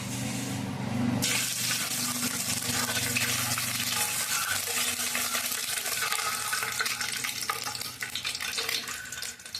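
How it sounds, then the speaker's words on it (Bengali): An egg fries in hot oil in a home kitchen, a loud continuous sizzle close by with a crackling texture that holds steady throughout, briefly stronger at the start. "তেল দিয়ে দেবো ডিমটাকে অল্প একটু ভেজে নেব হালকা হালকা করে"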